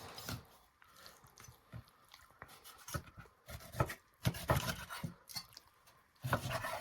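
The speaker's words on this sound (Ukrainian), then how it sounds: "Тепер філешечку зрізаємо," A knife slicing the fillet off a whole raw chicken being portioned on a board, with soft, irregular wet cuts, squishes and scrapes close by, fairly quiet and without talk.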